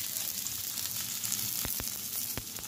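Garlic, onion and ginger sizzle steadily in hot oil in a pan for chicken adobo, a constant close frying hiss broken by a few sharp clicks of a utensil stirring against the pan.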